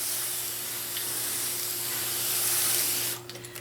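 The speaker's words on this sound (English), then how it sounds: "Nice fine spray works great for this." A spray bottle gives off a continuous fine hissing mist as it dampens lettuce seeds being started indoors. The close, steady spray runs for about three seconds and then cuts off abruptly. No one speaks.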